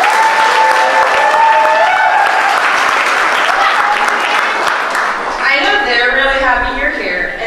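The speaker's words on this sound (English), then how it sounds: "let's give them a round of applause" Sustained applause from a wedding reception crowd, steady and full, with some cheering voices rising toward the end.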